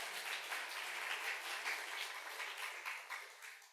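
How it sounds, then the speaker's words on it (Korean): Congregation applauding a church choir during a Sunday worship service, a soft, steady wash of clapping heard from a distance and fading slightly at the end. "우리 찬양대 주신 하나님께 영광의 박수 좀 드립시다"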